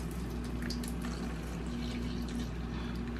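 Oat milk pours steadily into a matcha latte, a continuous liquid trickle and splash that is close and even throughout, with no talking.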